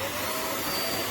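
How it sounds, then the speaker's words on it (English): A Vax Mach Air corded upright bagless vacuum cleaner runs on carpet strewn with sawdust, giving a steady, loud, close whirring roar with an airy hiss throughout and no talking. "I've sprinkled some sawdust on carpet just to show you how easy this vacuum is to use."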